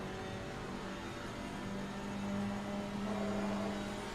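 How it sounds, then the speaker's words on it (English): A GT4 race car's four-cylinder engine in Assetto Corsa Competizione drones at steady, fairly high revs, rising slightly midway, as a continuous, moderately quiet hum with no talk. "So engine sound sounds like a pretty decent 4-cylinder."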